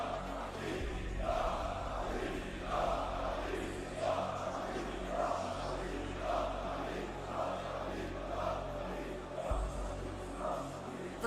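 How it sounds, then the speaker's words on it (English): A large crowd at a Rocket League esports final roars and chants in rhythmic waves, rising and falling repeatedly, filling a big reverberant arena without a clear single voice. "The crowd trying to will a Game 7 into existence."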